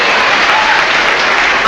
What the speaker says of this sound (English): They were clapping.